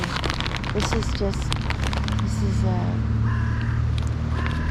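Several crows caw faintly from a distance in a few short harsh bursts, mixed with other bird calls over a steady rumbling background of wind or traffic noise outdoors.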